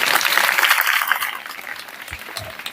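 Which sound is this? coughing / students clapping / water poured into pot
students clapping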